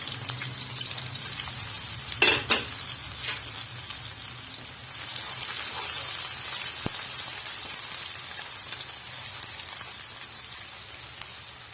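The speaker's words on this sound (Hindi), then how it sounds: "यहाँ पे जी घी है मेरा जो है काफी गर्म हो चुका है। तो यहाँ मैं प्याज डालूंगी सबसे पहले।" Onions sizzle in hot ghee for a dhaba-style daal mash, a soft, even frying hiss with a brief clatter of stirring partway through, heard close and fairly quiet.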